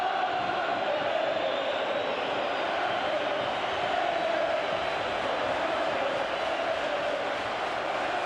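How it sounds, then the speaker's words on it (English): Football crowd at the 2000 League Cup Final applauding and cheering for Tranmere Rovers, a dense, continuous roar of clapping and voices at a steady level throughout, with no commentary over it. "Great support for Tranmere here. They're really enjoying, applauding the team's effort."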